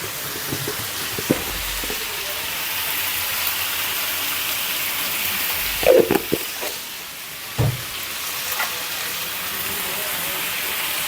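Spices, onion and green chilies frying for dal, a faint steady sizzle with scattered clinks and stirring knocks from a utensil against the pot.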